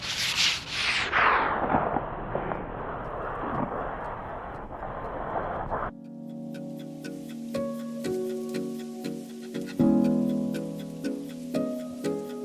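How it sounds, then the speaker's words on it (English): Sanding a sailboat hull by hand with 320 grit sandpaper before paint and primer, heard as a steady close rubbing scrape that gives way to a run of short rhythmic strokes. "yeah, let's start sanding."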